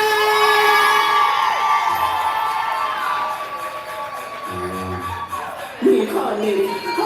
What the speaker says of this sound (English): Y'all already clapping. Already raising the energy.